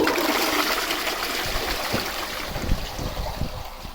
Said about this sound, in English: So anyway, give it a flush.